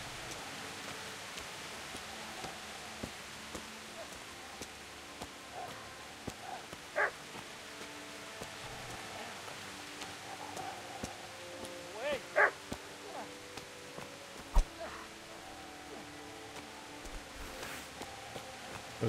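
A dog barks a few times at a distance in the medieval Bohemian countryside of Kingdom Come: Deliverance, short sharp yelps rising over a steady hiss of ambient game noise.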